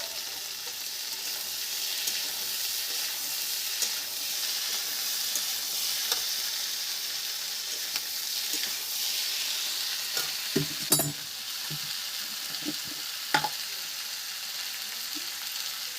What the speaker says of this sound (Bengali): এই যে আলুগুলো ভাজা হয়ে গেছে, এবার ক্যাপসিকামগুলো আর যে কটা আলু আছে দিয়ে দিলাম